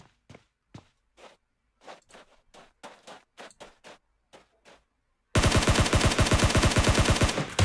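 Gunfight in a competitive video game scrim: sharp, separate shots and footsteps tick out across the first five seconds, then a loud, dense burst of rapid automatic fire takes over to the end.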